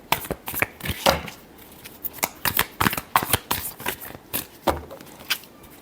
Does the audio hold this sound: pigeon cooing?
no